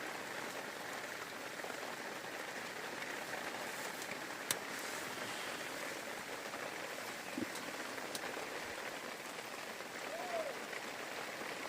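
Light rain falls outdoors beside a campfire where tea is brewing, a steady soft hiss of drops on surfaces with occasional sharper drips, faint and continuous.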